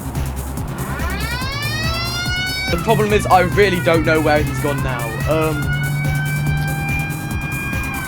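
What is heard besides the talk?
police car siren in BeamNG, video game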